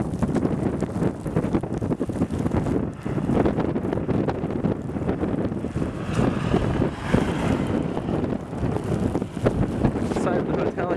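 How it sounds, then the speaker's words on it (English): Blizzard wind gusting across the north side of a hotel building in Liberal, Kansas, a constant rough roar of buffeting wind on the microphone, loud and unbroken, with a voice faintly underneath. "The wind's going across the building must create some kind of flow."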